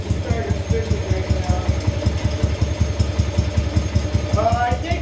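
Small engine idling right after being started, running at roughly starter speed, with a fast steady chugging pulse close up and no talk over it.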